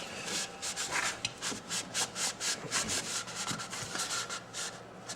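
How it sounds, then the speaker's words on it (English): Walnut oil being rubbed onto a redheart wood bandsaw box with a cloth, giving rhythmic back-and-forth swishing strokes, close and steady with no voices. "Get all the surfaces covered with that walnut oil."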